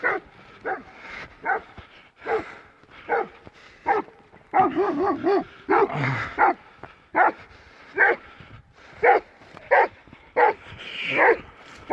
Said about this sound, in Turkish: Köpekler saldırıya geçti. Birbirine girdiler şurada.